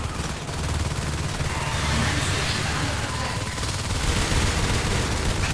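Marines in the Natural Selection 2 video game pour steady gunfire into an alien hive, a dense, unbroken rattle of shots that runs close and loud from start to finish.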